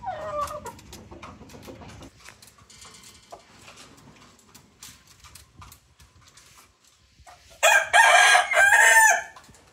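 A loud crow from a four-month-old McLean x Miner blue rooster bursts out near the end after quiet clicks and faint rustling, close and harsh.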